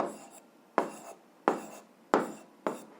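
A pen writes a math expression by hand on paper, giving five short scratchy strokes at a steady pace, close and quiet, each fading quickly.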